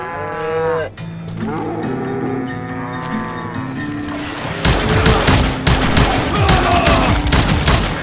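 Cattle moo loudly, then rapid gunfire erupts in Call of Juarez Gunslinger, a dense fusillade of sharp shots in a Western game setting.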